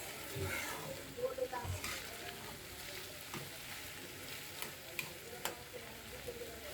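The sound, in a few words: beef tripe and potatoes frying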